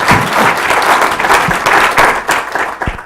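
An audience at a lecture applauds the introduced speaker, steady dense clapping from many people that thins slightly toward the end with a few separate claps.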